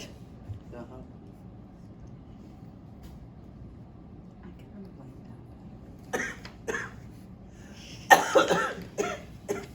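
A person coughs several times near the end, sharp harsh bursts in a quick cluster after a quieter stretch of low background hum, with a brief voice sound mixed in.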